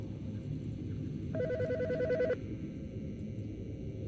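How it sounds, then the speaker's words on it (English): A telephone rings in the forensic video game Autopsy Simulator, one short burst of electronic ringing that cuts off abruptly over a low ambient hum, with no one speaking. "The fucking phone."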